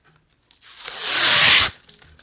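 Protective plastic film is peeled off a phone accessory in one loud, close, ripping pull lasting about a second, with a few small handling clicks around it.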